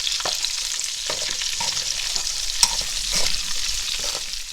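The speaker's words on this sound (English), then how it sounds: "It's 1 whole onion in here. I'm going to fry it." Onion frying in oxtail fat in a pot, a steady bright sizzle with periodic stirring scrapes and clacks, loud and close without any talk.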